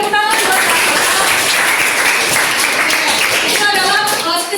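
A class of students claps and applauds for a classmate after a poetry reading, a steady, dense burst of hand-clapping that fills the room for several seconds.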